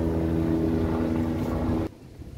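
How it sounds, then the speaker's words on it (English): An early-morning helicopter passes overhead, a steady loud whirring drone with a rhythmic rotor hum that cuts off abruptly near the end. "Early morning chopper passing to the stable."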